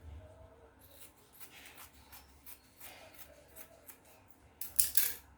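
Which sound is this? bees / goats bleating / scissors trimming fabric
scissors trimming fabric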